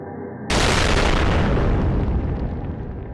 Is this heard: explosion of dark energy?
yes